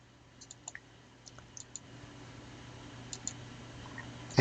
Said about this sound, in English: click on Roles and Features, Add Roles and Features